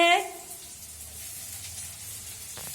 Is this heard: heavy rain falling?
no